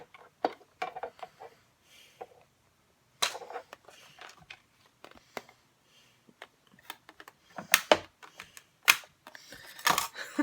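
Several sharp, loud pops and cracks ring out at irregular intervals as a Big Shot die-cutting machine cuts paper with Framelits dies, with quieter clicks and rustling in between.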